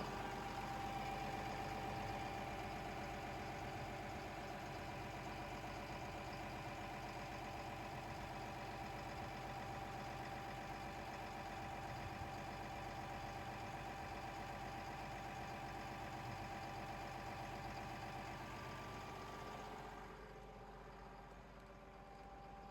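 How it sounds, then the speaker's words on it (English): Starboard engine of a boat idling steadily at about 900 RPM, a loud continuous drone with a rumbling low hum throughout, dropping off toward the end. "Starboard engine is running."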